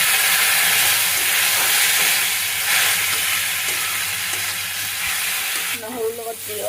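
Crushed garlic, soaked in a little water, hitting a hot pan and frying with a loud, steady sizzle and hiss, with some stirring noises toward the end.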